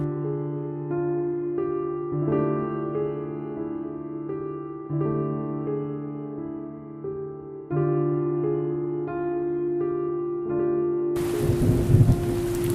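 A sudden burst of heavy rain and gusting stormy wind at a cremation ground at dusk rushes in loudly near the end, cutting across steady tonal background music that plays alone before it.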